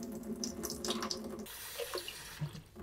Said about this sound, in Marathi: 2 ते 3 वेळा तरी असं छान खळखळून धुवून यातलं पाणी निथळून घ्यायचं